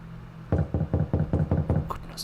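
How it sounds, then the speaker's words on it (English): Knocking at a door in a horror video game: about seven firm, evenly spaced knocks, close and resonant, followed by a brief short noise at the end. "Who is knocking at the door this late?"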